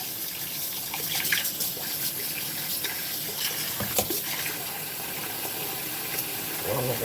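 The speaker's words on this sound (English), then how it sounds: "so I can get some water in that bowl" Tap water runs steadily into a bowl in a home kitchen, a continuous close splashing stream with brief clinks, faint background voices beneath.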